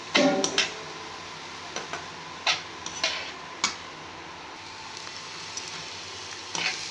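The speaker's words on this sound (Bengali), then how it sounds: "হলুদ গুঁড়ো দিয়ে ভালো করে নাড়াচাড়া করে আর 2 মিনিট হতে দেবো" Water spinach with turmeric powder frying in a pan, a faint sizzle under a handful of spaced spatula taps and scrapes as it is stirred, close and quiet.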